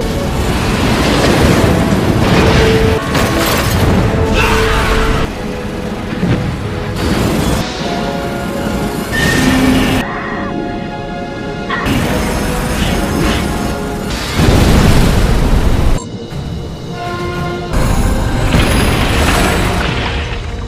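Film battle scene in which the mech Kiryu fires its Absolute Zero cannon at Godzilla: heavy, booming blasts and crashing impacts with rumbling debris and music, loud and nearly continuous with brief drops between bursts.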